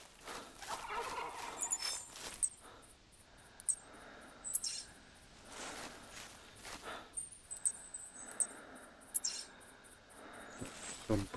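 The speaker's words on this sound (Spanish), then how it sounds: "Son pavos, chaval." Turkeys gobble in short bursts in the hunting video game The Hunter, several rough calls scattered over a soft outdoor background with insect-like chirping, moderately distant.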